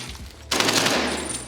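Gunfire is shot through a wall in the video game Nuketown, loud and near: a sudden dense burst of rapid automatic fire that runs on without pause after a quiet start.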